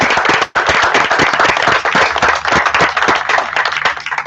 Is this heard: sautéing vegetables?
no